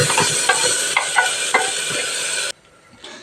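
Ground masala sizzles loudly in a pan with crushed garlic and curry leaves, giving a steady frying hiss with stirring scrapes, then cutting off abruptly to near quiet.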